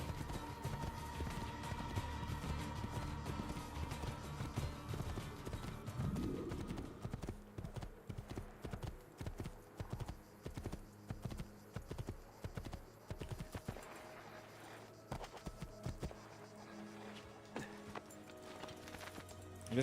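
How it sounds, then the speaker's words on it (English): Horse hooves clip-clop in a video game as a rider remounts and rides on, a quick, regular beat of hoof strikes that carries on under other game sounds. "I just got off and then ran right back onto the horse."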